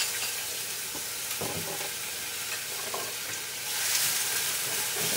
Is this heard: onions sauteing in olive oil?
yes